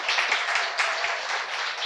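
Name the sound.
audience applause for event organizer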